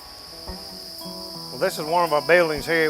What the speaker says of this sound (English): As you can hear the chirping noise, the cricket will not chirp until he's fully grown.